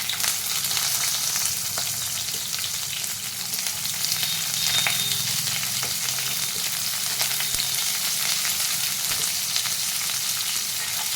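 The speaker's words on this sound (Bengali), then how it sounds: "তো চলো পেঁয়াজগুলো একটু বাদামি করে ভালো করে ভেজে নিই" Onions frying in hot oil toward browning, a dense, steady crackling sizzle close and loud throughout, with faint occasional stirring scrapes beneath it.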